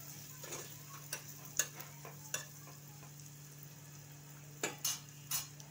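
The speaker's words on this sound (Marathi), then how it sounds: "हे 1-2 चमचे घालूया, चांगलं मिक्स करून घेऊया।" Green coconut paste is mixed into a pan of Bhogi vegetables, heard as quiet, scattered spoon taps and short scrapes against the pan over a low, faint background.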